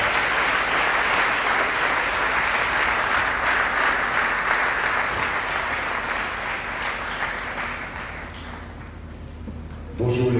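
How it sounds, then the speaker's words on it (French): A church congregation applauds at a service, sustained loud clapping filling the room for nearly ten seconds before thinning out, with a voice breaking in at the very end. "Applaudissons dans la vie."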